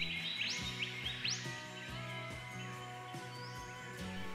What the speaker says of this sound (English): it was nice to listen to the birds for a while